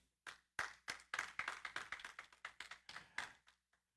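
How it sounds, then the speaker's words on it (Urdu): A small audience claps in agreement at a religious talk: a short burst of scattered, uneven hand claps, fairly quiet, starting sparse, thickening briefly, then tapering off into silence, with no talking. "اگر متفق ہیں تو تالیاں بجا دیں۔"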